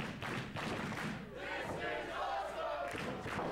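Crowd at an independent wrestling show in Bethany, Connecticut roars and cheers with shouts, a loud surging mass of voices that is continuous throughout.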